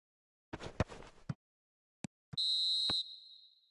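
A referee's whistle sounds in a football match, one loud, sustained shrill blast heard close up, following a few short knocks and brief scuffing sounds in an otherwise quiet stretch.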